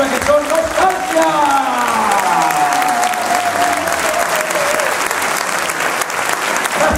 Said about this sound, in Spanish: demos un fuerte aplauso a la banda que entra ahora